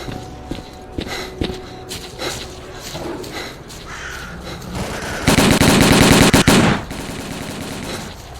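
Gunfire in the video game STALKER Call of Pripyat, a dense spread of shots and clatter that swells into a loud sustained burst of automatic fire near the middle before dropping back.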